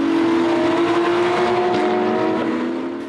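Porsche race cars at the Val de Vienne circuit give a loud, sustained engine drone with a steady pitch, fading slightly toward the end as they pass.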